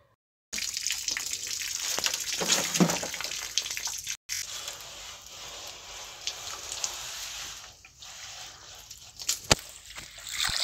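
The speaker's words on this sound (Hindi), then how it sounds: "उसके बाद जितना ड्रम में जगह बची है उतना हम पानी डालते जाएंगे" Water gushes steadily into a drum to top up a Bavistin fungicide solution at a mushroom farm, a continuous close splashing rush that runs unbroken for about ten seconds with a brief dropout near the four-second mark.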